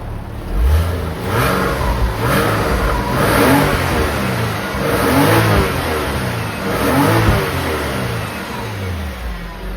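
A Porsche Boxster S engine with a dual exhaust revs repeatedly, rising and falling in several throaty bursts from a deep exhaust, loud and close.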